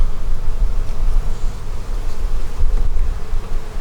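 Honeybees buzz steadily and loudly throughout, a dense close-up hum from a hive opened for inspection in a neglected home bee yard.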